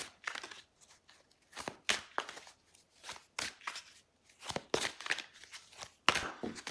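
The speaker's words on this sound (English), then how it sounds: "these are actually being really hard to shuffle" Tarot cards are shuffled in irregular bursts of crisp riffling and slapping, close and fairly quiet, separated by brief pauses, with no talking.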